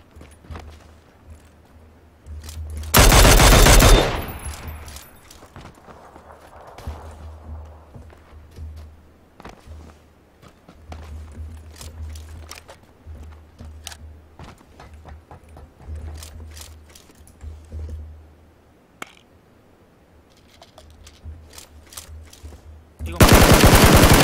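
Loud machine gun bursts in the PUBG (Battlegrounds) video game: one sharp volley early, then a stretch of quieter footsteps and low rumbling movement, and another heavy burst right at the end.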